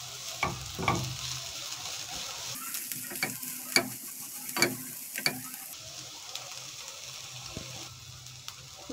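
Onions caramelize in a hot pan with a steady soft sizzle, broken by several sharp clicks and taps of a utensil stirring them; fairly quiet and close, with no talking.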